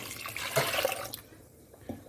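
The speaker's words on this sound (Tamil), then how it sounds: "புளி கரைச்சி வச்சுருக்க தண்ணியை சேர்த்துக்கிறேன்" Tamarind water poured into a cooking pot for rasam, a brief splashing gush for about a second that tapers off into soft drips and quiet trickling.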